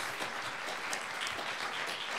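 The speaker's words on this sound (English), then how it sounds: "Can we all give them an applause," Steady applause from a symposium audience for a panel of speakers at an education law event, a dense even patter of many hands clapping throughout with no voices on top.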